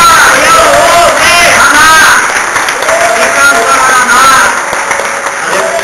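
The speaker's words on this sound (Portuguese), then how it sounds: "Eu gostaria que você desse uma salva de palmas para esta palavra." A church congregation applauds during a sermon, loud clapping mixed with crowd voices and shouts, while a voice rises over it.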